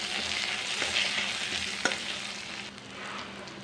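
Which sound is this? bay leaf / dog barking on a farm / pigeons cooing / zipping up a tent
bay leaf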